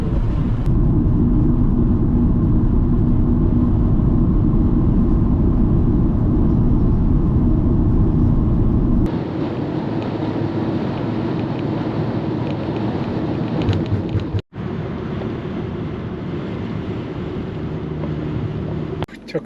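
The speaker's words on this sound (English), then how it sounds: "This crazy ass wind is like, ooh, insane." Strong gusting wind roars steadily across an open desert road near Boron, a loud, continuous low rumble that shifts in character partway through with a brief dropout near the end.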